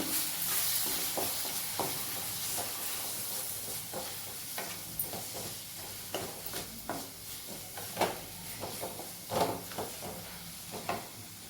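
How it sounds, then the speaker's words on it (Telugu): Coriander powder and chili powder fry in a pan with a steady hiss and sizzle, broken by repeated scraping and clicking stirring strokes that grow more frequent toward the end. "కొంచెం ధనియాల పొడి, సరుపు మిరప్పొడి ఇవి బాగా ఫ్రై చేసేసుకొని"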